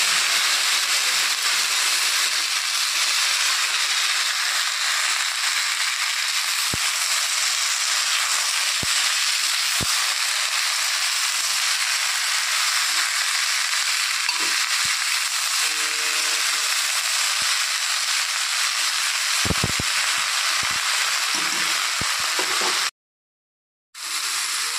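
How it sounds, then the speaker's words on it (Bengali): Vegetables for a pumpkin and pumpkin-shoot chorchori hit hot oil tempered with five-spice, giving a loud, dense, continuous sizzle with occasional pops that runs nearly the whole time before a brief dropout near the end. "এখন আমি এর মধ্যে সবজিগুলো ঢেলে দেব।"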